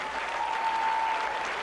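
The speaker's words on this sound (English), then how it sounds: "One more round of applause for Grant Gunnell" A large indoor audience at a Houston sports awards ceremony in a hotel ballroom claps steadily, a dense and even wash of applause that fills the room without pause.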